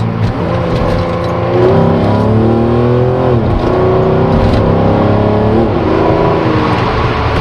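A Mercedes 190E with a swapped V12 engine accelerates hard under manual mode, its loud steady engine drone climbing in pitch with several quick gear shifts that briefly drop the revs before rising again, close and continuous with no talk.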